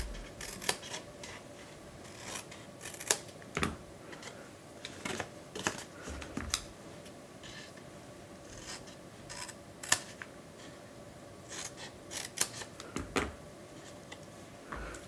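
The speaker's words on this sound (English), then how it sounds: "I'm just going to come in and miter cut those" Scissors snipping through paper to miter-cut the tabs of a folded paper template for a pencil pouch, a series of crisp, close cuts in irregular bursts with quiet pauses between them.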